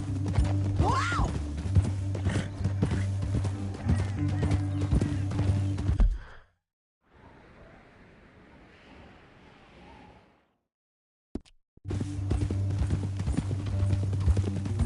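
Horse hooves clip-clop steadily in Red Dead Redemption 2 alongside music and ambient game sounds, then a quieter windy stretch, a brief silence, and the hoofbeats return.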